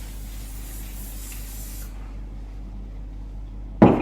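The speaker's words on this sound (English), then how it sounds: "So you just spray it about 30 centimeters away, and you'll notice, see that shine?" Leaf shine spray aimed at a foliage table centrepiece from about 30 centimetres: a steady aerosol hiss that runs for roughly two seconds and then stops, followed by a brief clunk as the can is set down.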